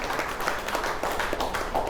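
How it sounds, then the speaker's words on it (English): An indoor audience at a real estate networking class in Corpus Christi gives a steady round of applause, dense and moderately loud throughout, with no pauses. "I want everyone to give yourself a big round of applause"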